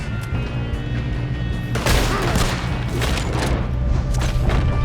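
Gunfire erupts during a train robbery in the video game Red Dead Redemption 2, a loud burst of booming shots and crackling volleys over a dense rumble, close and continuous after a sudden onset.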